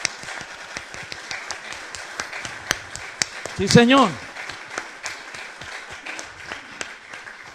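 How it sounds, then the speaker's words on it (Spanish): A church congregation claps in scattered, uneven applause, with a voice calling out briefly in the middle and a short rising vocal exclamation standing out above the claps. "¿Cuánto le dan un aplauso al Señor por eso?"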